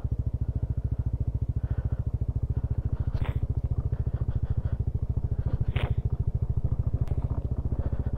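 A motorcycle engine chugs along a rough rural road, its fast even firing pulses close and steady throughout, with faint knocks and rattles from the bumpy ride.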